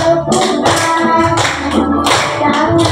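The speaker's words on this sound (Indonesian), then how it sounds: "bertepuk-tepukan." Hands clapping in a rhythmic pattern during a children's action song led by a teacher, several sharp claps in a steady beat over singing and background voices.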